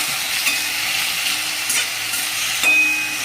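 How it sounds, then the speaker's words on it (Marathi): Sliced potatoes fry in a pan over low heat, a steady close sizzle with a few light stirring scrapes and no voices. "लगेच आपल्याला हे बटाट्याचे काप केलेले याच्यामध्ये टाकून द्यायचे. याला मस्त आपल्याला फ्राय करून घ्यायचं."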